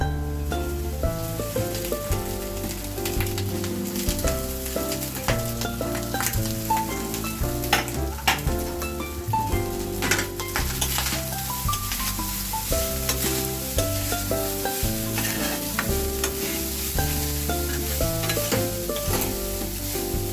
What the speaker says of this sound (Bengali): চালটা ভাতটা আমি দিয়ে দিয়েছি, এটা নাড়াচাড়া করছি